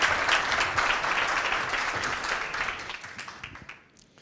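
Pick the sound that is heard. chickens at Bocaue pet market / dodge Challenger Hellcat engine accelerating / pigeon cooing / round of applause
round of applause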